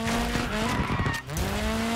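Peugeot 208 drifting in the racing game DIRT 5, with a loud, steady engine drone and continuous tire skidding and squeal, engine pitch briefly dipping before it surges back.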